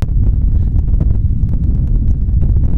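Strong wind roars and buffets the microphone on the shore of the Limfjord in Denmark, a dense, continuous low rumble with gusty surges that runs throughout and nearly masks all other sound.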